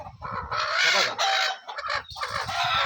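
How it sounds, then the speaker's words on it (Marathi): A hen held in someone's hands gives loud, close, agitated clucks and squawking cackles in uneven bursts, with short pauses between them. "बघा ही कोंबडी आहे ना"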